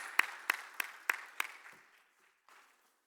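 A conference audience claps for a speaker being welcomed on stage. The applause is faint and sparse, mostly a handful of separate sharp claps in a loose rhythm that soon thins out and stops.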